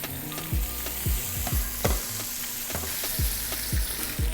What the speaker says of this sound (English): We're going to seal off the lamb, crispy flavour on the outside.